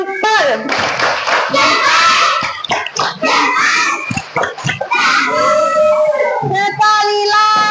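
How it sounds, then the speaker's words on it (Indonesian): A class of children performs a thumb-clapping chant, rhythmic clapping mixed with their loud chanting voices, with a teacher speaking in between. "Ibu pengen tahu mana suaranya tepuk jempol."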